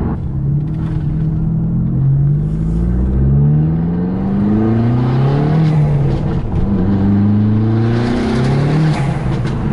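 Abarth 595 Competizione with a Power Motive exhaust, tuned to 250 bhp, rumbles loudly throughout as it revs and accelerates in several rising and falling pulls, close and alone with no talk.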